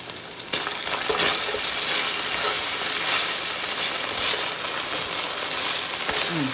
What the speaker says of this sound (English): Cooking these onions. I'm going to add in a teaspoon of barbecue sauce